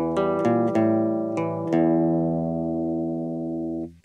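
A riff played on guitar, a handful of plucked notes ringing out in a steady pattern with sustained tones that fade at the end, close and clear with no voices.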